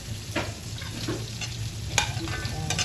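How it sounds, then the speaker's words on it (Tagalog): Garlic and onions sautéing in a pan, a steady close sizzle broken by a few scraping stirs of a spatula, with no talk. "Gigisa ko na po yung bawang sa kasibuyas"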